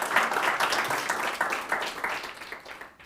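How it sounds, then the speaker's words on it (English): Audience applause for a keynote speaker at an academic conference on the ethnography of Iran: dense, steady clapping from a crowd that holds for about three seconds, then thins and fades out near the end. "Please give Professor Beeman a warm round of applause."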